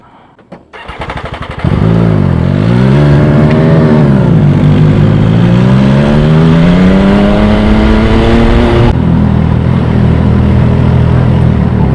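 A motorcycle engine starts up and revs on a Philippine North Loop tour, its pitch sweeping up and down before settling into a steady, loud drone as it rides along.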